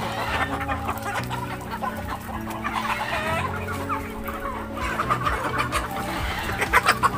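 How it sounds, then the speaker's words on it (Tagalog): Several free-range chickens cluck steadily and overlapping, close by, with a busy farmyard background and no talking. "Ito sa aking manok."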